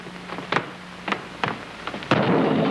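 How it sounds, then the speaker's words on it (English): A comic hollow-thud sound effect of a head bumping, heard in an old film or radio show, gives several sharp knocks, then a louder final crash followed by sustained noise. "That was Burney bumping his head."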